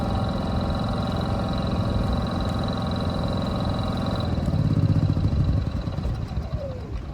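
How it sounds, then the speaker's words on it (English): A larger portable power generator runs steadily after starting, a loud continuous mid-pitched engine drone with a faint whine on top; the load swells briefly near the end before settling back. "so the engine is going to be a little louder."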